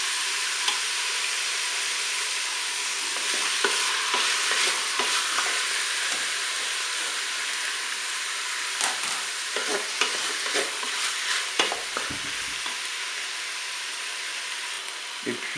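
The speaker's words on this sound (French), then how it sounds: "pendant que les morceaux de viande et l'oignon reviennent" Beef pieces and onion browning in a Cookeo multicooker, a steady close frying hiss with occasional stirring scrapes and small crackles, no voices.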